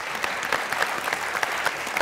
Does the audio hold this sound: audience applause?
yes